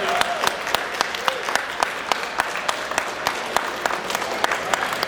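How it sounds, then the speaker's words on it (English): Audience applause for a convention panel on obscure villains, steady clapping from a room of people with sharp individual claps standing out close by throughout. "Can we get a round of applause"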